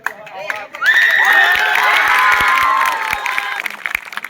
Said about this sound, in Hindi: ये आरएमजेड का ताली है, इतना जोर से ताली मारो